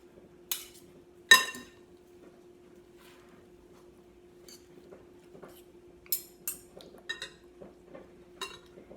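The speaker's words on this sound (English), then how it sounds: "Toss it until you see that the onions and apples are evenly distributed." Red leaf lettuce with onions and apples tossed in a bowl for a Roquefort salad, giving scattered light clinks and taps of utensils against the bowl at an irregular pace, fairly close but soft, with no talking.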